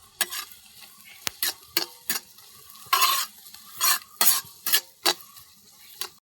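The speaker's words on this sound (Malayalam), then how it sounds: "ഇനി അത് പച്ചമണം മാറുന്ന വരെ നന്നായിട്ട് ഇളക്കി കൊടുക്കണം." Ginger garlic paste sautéed in a pan, with about a dozen distinct sharp scrapes and spoon knocks in an irregular rhythm over a faint sizzle, close and clear with no speech.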